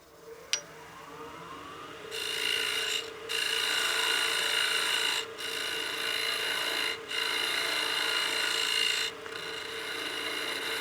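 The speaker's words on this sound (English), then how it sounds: "and then we can go ahead and sand and finish the foot" A wooden box foot turning on a lathe is sanded and finished, giving a steady, moderately quiet abrasive rasping hiss that runs in long sustained passes broken by brief pauses, with a faint click near the start.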